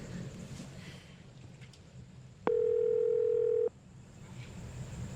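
A steady telephone tone sounds for a little over a second over a low room hum, loud and alone, as a call is placed in an Indonesian drama scene.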